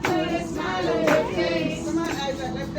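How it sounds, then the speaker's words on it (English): A few people clapping their hands at work, soft claps running through a short stretch under singing and a voice. "Everybody clap your hands."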